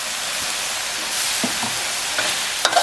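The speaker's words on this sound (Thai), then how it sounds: "ผัดนะครับ รอบหนึ่ง เพื่อที่จะให้ใบกะเพราสุก" Minced pork and glass noodles with holy basil leaves are stir-fried in a hot pan, giving a steady close sizzle with scraping stirring strokes and a few sharper clinks near the end.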